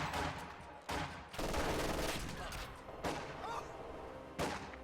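Dense gunfire fills a video game battle, with bursts of machine-gun fire and heavy blasts arriving in waves, close and loud, while voices call out over it.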